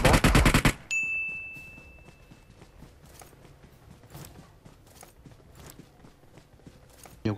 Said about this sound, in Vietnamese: Nhiều súng bắn.